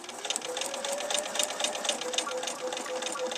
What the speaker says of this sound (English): I'm just going to sew from one corner to the next